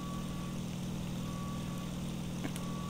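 Steady low drone of a World War II fighter plane's piston engine in the flight sim IL-2 Sturmovik, a constant throbbing hum heard from the cockpit with no talk over it.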